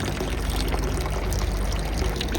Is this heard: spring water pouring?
yes